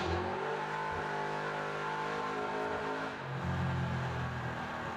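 Engine revving from a 1994 Ford Mustang fitted with a 2003 Cobra engine swap, built for over 700 wheel horsepower, with a loud steady drone that swells and dips, close by and without talk.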